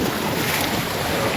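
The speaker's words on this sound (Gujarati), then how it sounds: "આ જો ખાલી આવી રીતના છે ને મિત્રો મોજા આવે છે." Sea waves at Diu rush in as a loud, broad, continuous roar, with wind buffeting the microphone up close.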